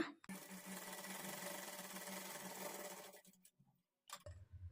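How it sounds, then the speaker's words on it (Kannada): A sewing machine stitches fabric after being rethreaded to fix loose stitches and thread breaking, running in one loud steady whirring burst for about three seconds, then slowing and stopping before a short restart. "ಈಗ ಸ್ಟಿಚ್ ಮಾಡಿ ನೋಡೋಣ ಸ್ಟಿಚ್ ಕರೆಕ್ಟಾಗಿ ಬರ್ತಾ ಇದೆಯಾ ಇಲ್ವಾ ಅಂತ"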